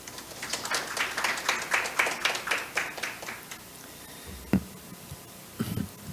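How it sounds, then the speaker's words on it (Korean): A lecture audience at an obesity research society meeting claps in welcome, a steady run of sparse, moderately distant handclaps that thins out and fades into a few isolated knocks near the end. "큰 박수로 맞이해 주시기 바랍니다"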